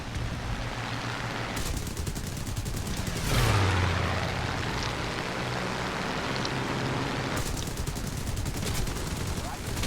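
Video game gunfire crackles in rapid bursts and sustained automatic fire, with a loud volley midway over a continuous noisy backdrop of game sound.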